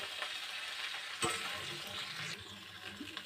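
Pointed gourd with a little potato tossed into hot oil tempered with nigella seeds, a soft steady frying hiss with one sharp burst as the pieces drop in, then gentle stirring.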